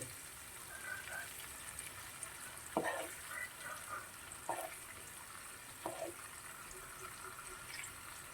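Hot oil and spice masala spooned over fish frying in a pan for meen pollichathu, a soft continuous sizzle broken by a few louder spits and clinks of a spoon, fairly quiet overall.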